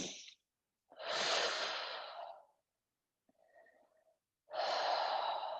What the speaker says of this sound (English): Just take some deep breaths here.